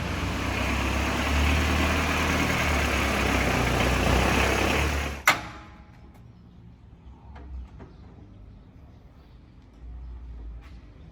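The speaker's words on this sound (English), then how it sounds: "It is the factory Mitsubishi inline 4 turbo diesel with 3 whole sets and 1 giant Mitsubishi turbo." A truck's factory Mitsubishi inline-four turbo diesel with a large turbo runs loud and steady for about five seconds, then cuts off abruptly, leaving faint background noise and a few small knocks.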